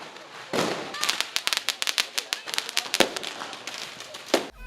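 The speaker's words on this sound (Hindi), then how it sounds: "पटाखे फोड़ते, फुलझड़ियाँ जलाते।" Rapid, irregular crackle of Diwali firecrackers and fireworks bursting, many sharp pops in quick succession with a few louder bangs, continuous for several seconds.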